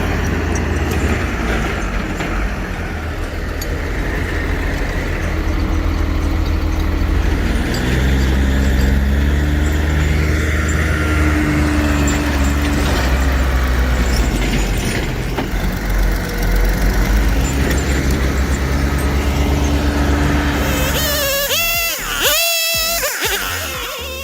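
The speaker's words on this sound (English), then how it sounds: "Engines roaring, tires spinning, diesel hanging in the air." Diesel engines of logging trucks roar steadily and loudly in snowy coastal logging country, a deep continuous rumble that swells and holds for most of the stretch before cutting off near the end.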